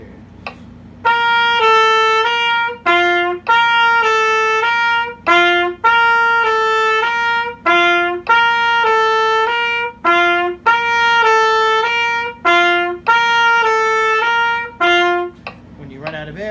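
Brass instrument playing an Arban slur study, a repeated looped measure of detached staccato quarter notes slurring between pitches, loud and clear with short breaks for breath, no talking.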